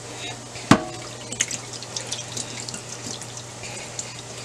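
Liquid from canned food drains into a sink while making homemade chili, with a sharp clunk at the start, then an uneven trickle and splatter of small splashes alongside a low steady hum.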